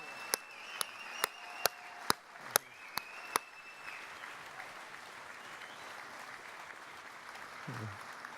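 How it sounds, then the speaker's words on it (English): Clapping at a mine workers' union convention honoring veterans: about eight sharp, evenly spaced claps ring out in the first few seconds, then fade into quiet room tone. "Give these veterans a round of applause."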